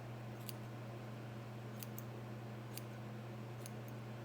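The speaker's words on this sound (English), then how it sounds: "so I'm going to cut" Scissors snip through craft foam in a few quick, faint cuts, some in close pairs, over a steady low electrical hum, with no talking.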